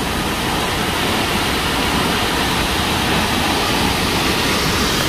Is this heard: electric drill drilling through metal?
no